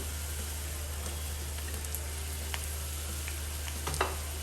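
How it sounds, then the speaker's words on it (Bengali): Cut potatoes sizzling in a pan with softened onions, a steady close hiss of frying with a few faint stirring taps, no one speaking. "এখন আমি পরিমাণ মতো আলু কেটে নিয়েছি এভাবে করে দেখুন আলুটা দিয়ে দেব"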